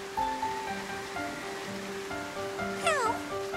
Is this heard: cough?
no